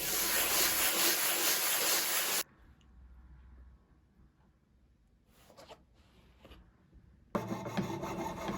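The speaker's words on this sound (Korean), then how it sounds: "끝부분이 울퉁불퉁하기 때문에 사포를 이용해서 평을 맞춰줍니다" Rough, raspy rubbing of sandpaper on the uneven edge of a copper ladle bowl in a long steady stroke, then a pause of quieter scraping before the harsh sanding resumes.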